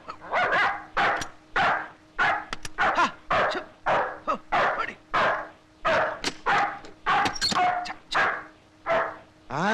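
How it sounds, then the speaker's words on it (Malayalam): A dog barks repeatedly and loudly nearby in a rural home setting, a rapid series of sharp yelping barks in an uneven rhythm with a few whimpering notes mixed in. "പട്ടി വല്ലാതെ കുറയ്ക്കുന്നുണ്ടല്ലോ."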